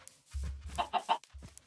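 In a video game, a chicken lets out a quick run of three soft, clipped clucks over a low background rumble, faint and close, with no talk.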